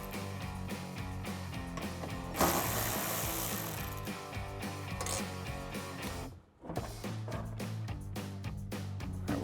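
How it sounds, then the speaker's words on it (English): A ratchet works loose the 8mm bolts holding a pickup truck's plastic wheel liner during a Ram 1500 suspension lift install, giving rapid steady clicking that runs nearly throughout, broken once by a brief pause. "we're just gonna take out our plastic liner. There are 4 8mm bolts that go around."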